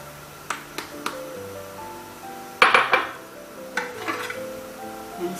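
A spoon stirs okra soup in a pot, producing a few sharp clinks against the pot, then a louder cluster of scraping knocks and softer taps, with no talking.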